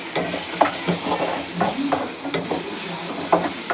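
Cardamom pods and spices sautéing in a pan for paneer butter masala, a constant close sizzle with quick rhythmic spoon stirs and scrapes throughout, no talking.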